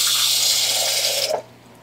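Water from a kitchen tap runs steadily with a bright splashing hiss, close and loud, then cuts off abruptly near the end.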